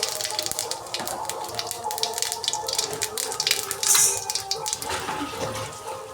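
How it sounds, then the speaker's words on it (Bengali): Cumin seeds and dried red chillies sizzling in hot oil, a bright hissing crackle with popping spikes that stays steady and fairly loud throughout, with no talking. "এবার আমি তেলে জিরা আর শুকনো লঙ্কা সম্বারা দিয়ে দেব।"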